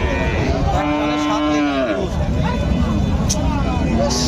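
Frisian dairy cows and calves at Dhaper Haat, a busy livestock market, with a drawn-out moo rising over dense crowd chatter and nearby voices, plus scattered market noise.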